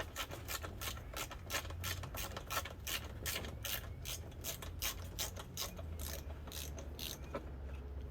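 A hand ratchet works on bolts of a Suzuki DS/TS-series motorcycle, up close, giving steady runs of rapid clicking pawl strokes that continue throughout over a low background hum.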